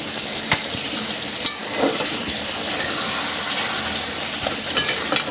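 Chicken curry meat sautéing in a pan for a Bengali-style curry, a steady close sizzle and frying hiss with occasional stirring scrapes and clicks.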